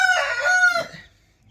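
A single rooster crow at a poultry farm, loud and close, rising then trailing off into quiet.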